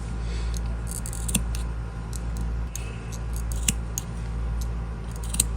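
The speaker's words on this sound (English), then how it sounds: "you can go and just snip a little bit around so the circle don't" Scissors make a few small snips around a sewn fabric circle, faint crisp clicks spaced over a steady low background hum.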